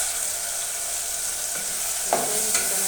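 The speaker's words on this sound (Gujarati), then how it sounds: "બટેટા આવી રીતે તેલમાં ચડાવવાથી બટેટા જલ્દી ચડી જાય છે" Potatoes frying in hot oil for a fasting-day moraiya khichdi, giving a steady close sizzle with a couple of scraping stirs near the end and no talking.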